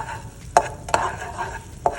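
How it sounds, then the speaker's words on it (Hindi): Ground garlic cooks in melted butter in a pan with a soft, low sizzle, broken by three sharp clicks and scrapes of a spoon stirring against the pan. "इसमें मैं बिल्कुल थोड़ा सा लहसुन डाल रही हूँ पिसी हुई"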